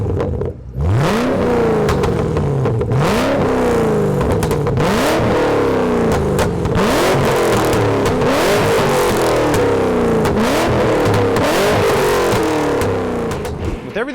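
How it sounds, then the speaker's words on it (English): A 2013-2014 Shelby GT500 with an axle-back exhaust and off-road X-pipe revs hard in repeated rising-and-falling bursts, a loud, aggressive exhaust roar cycling roughly every second and a half. "this Axle-Back paired with that off-road X-pipe just produces an exhaust sound that is totally evil"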